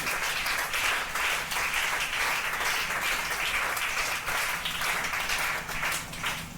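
A church congregation applauds in sustained, steady clapping that fills the room at fairly even loudness throughout, with no voice standing out above it.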